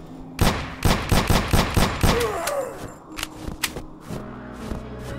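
Rapid gunshots from a gun in the video game Antarctica 88 crack out in a quick string of loud bursts, then thin into a few scattered shots against a low ambient game hum.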